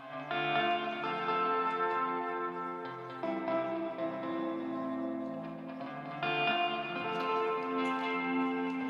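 Guitar tracks ring out through ping pong delay and plate reverb, sustained chords with echoing repeats and a wide, washed-out tail, fairly quiet and played alone.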